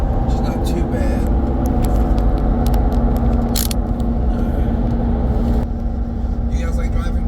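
Steady low interior rumble and road noise from a car cruising on a long highway drive to pick up an S13 hatch, continuous throughout with people talking over it.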